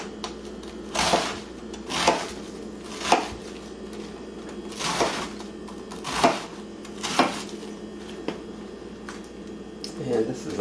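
A knife slicing kale lengthwise on a cutting board, giving regular close thuds roughly once a second, about ten cuts in a steady rhythm over faint background noise.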